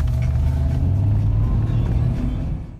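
A BMW drifting and racing through a village, a loud close low engine rumble holding steady before fading away at the end.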